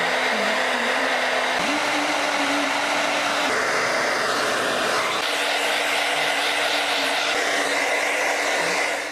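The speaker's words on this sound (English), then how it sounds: "I'm gonna diffuse the hair really quick on warm to kind of break up some of the product" A hair dryer fitted with a diffuser drying hair on the warm setting, blowing as a loud, continuous close whir with a steady hum and small pitch wobbles as it moves, with no talking.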